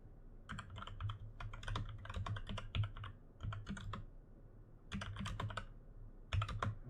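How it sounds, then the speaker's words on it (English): Computer keyboard keys are typed in quick, close-up bursts of clicking, with brief pauses between flurries and no talking. "I'm reaching around stuff and typing keys here."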